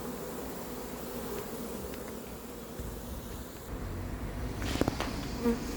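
A steady, dense buzz of a honeybee swarm being moved into a hive, with a few louder bees passing close by near the end.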